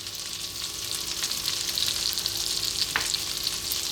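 Chopped onion, garlic ginger paste and salt fry in a pan over low heat for kedgeree, giving a steady, close, crackling sizzle with a brief stirring scrape near the end and no talking.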